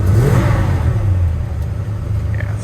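A 1940 Ford fitted with a Chevy 350 engine, cold and on an electric choke, runs at a steady, loud, high idle close by. The rumble eases slightly as the revs are brought down.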